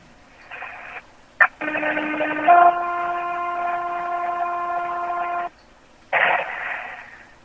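Over a radio channel, a paging two-tone signal: a steady low tone shifts to a second sustained tone lasting a few seconds, framed by brief bursts of static.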